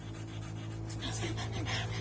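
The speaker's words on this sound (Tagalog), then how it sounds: "At sobrang hingal mo." A Belgian Malinois pants rapidly after play, a steady rhythmic breathy huffing close to the microphone with a low hum underneath.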